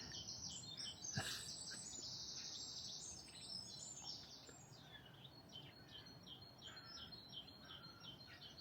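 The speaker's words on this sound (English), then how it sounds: "That's a blackcap singing." Blackcap singing outdoors on a coastal walk, faint scratchy warbling phrases repeating in quick bursts at some distance, with other soft bird chirps nearby.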